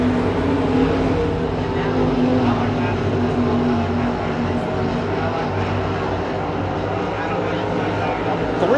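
Sprint cars racing in a Carolina Sprint Tour heat race at Carolina Speedway make a steady, loud, dense engine roar with sustained harmonic drone throughout, and an announcer's voice runs over the top.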